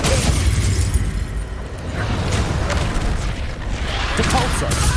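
Confringo spell explosions in Hogwarts Legacy, heavy rumbling booms and blasts rolling continuously under game noise.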